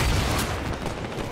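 A dense burst of rapid gunfire from Halo 5, loud and close, packed into a short rattling volley with booming low end.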